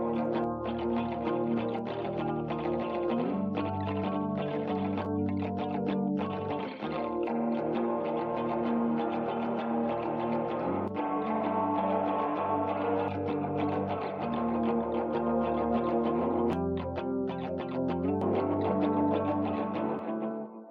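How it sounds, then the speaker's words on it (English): Sustained tones wash together with heavy echo and long reverb tails from a Universal Audio echo and reverb plugin, repeats smearing into a dense, continuous shimmering pad with no voices. "it's a combination of echoes and reverb"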